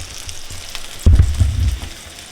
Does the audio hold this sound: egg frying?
yes